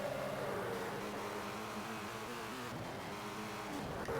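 A rally car engine in the Colin McRae Rally game rises as the car accelerates, a steady droning hum with climbing pitch heard alone at moderate loudness.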